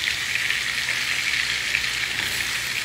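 Onion frying in butter in a pan, a steady, bright, loud sizzle and crackle that hisses on evenly with no voices over it.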